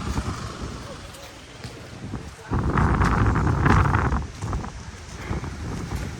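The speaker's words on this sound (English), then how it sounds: "The wind has picked up like seasonally over here or something" Gusty wind blows outdoors in Thailand, a broad rushing roar that swells loudly in the middle and then eases into a steadier bluster.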